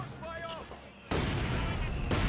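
Vickers machine gun firing on a garrisoned building in the Company of Heroes 2 battle game, a loud sustained burst of gunfire and blasts breaking in abruptly after a stretch of quieter battlefield noise with a faint voice.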